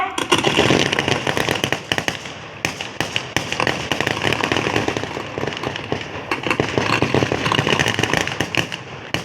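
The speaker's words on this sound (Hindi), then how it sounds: "यह दूसरा हर्ष फायर है।" A ceremonial harsh-fire volley at a Republic Day stadium event crackles as continuous, dense rapid-fire popping that rolls on loudly for several seconds.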